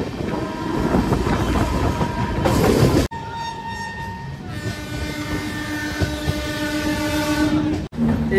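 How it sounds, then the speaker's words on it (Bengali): A Howrah–Balurghat Express stands at platform 5 of a busy station amid a waiting crowd: a steady loud rumble of rail noise, then sustained tonal horn-like blasts over the din, broken by two brief sharp dropouts. "আর স্যান্ডেলের 5 নম্বর প্ল্যাটফর্মে ট্রেন দিয়েছে"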